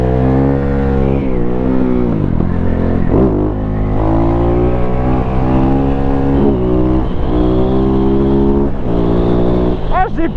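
A Husqvarna 701 motorcycle's exhaust rumbles and rises in loud revs with a small aftermarket pipe, a continuous close engine note swelling and dropping through several throttle blips.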